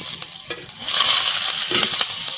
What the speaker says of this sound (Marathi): आता हलवून घेते